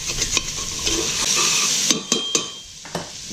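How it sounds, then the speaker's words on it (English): A spatula scrapes browned sausage bits from the sides and bottom of a pan over a sizzle, with several sharp metallic scrapes and knocks close up, no talking. "we're going to go ahead and use our spatula and get all those bits off the sides and off the bottom"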